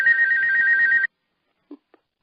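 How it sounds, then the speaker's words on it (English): A cell phone rings during a broadcast conference call: about a second of steady, bright electronic ringtone that cuts off abruptly, followed by silence and a couple of tiny clicks. "Whoever's phone it is, please mute your phone 4-star."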